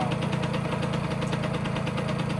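A Yamaha YSR50 50cc two-stroke motorcycle engine runs steadily nearby, a buzzing, slightly knocking idle with constant vibration and no pauses.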